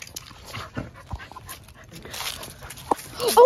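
A dog in a horror video game barks and whimpers in short, scattered yelps and whines, moderately close, against a low background drone with a louder burst near the end.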